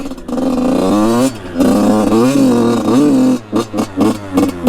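A cheap dirt bike bought off Facebook revs and pulls away up close, its engine note rising and falling in loud surges before breaking into short blips.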